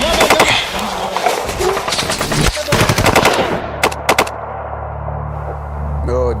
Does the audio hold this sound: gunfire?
yes